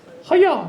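A woman imitates a fart with a short, loud, buzzy vocal burst lasting under a second, delivered on stage at a stand-up comedy show.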